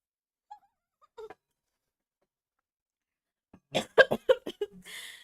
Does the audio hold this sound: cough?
yes